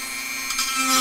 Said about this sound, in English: Back to the Dremel.